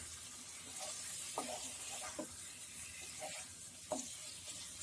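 Half a kilo of bone-in chicken fries over high flame in spices in a pot, with a soft continuous sizzle and hiss and occasional light stirring knocks, with no voices.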